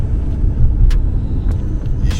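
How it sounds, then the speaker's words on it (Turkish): Steady low rumble of busy city traffic from inside a car on a driving-test route, with a few brief hisses of passing vehicles over the constant road noise. "burada da yine trafik biraz keşmekeş"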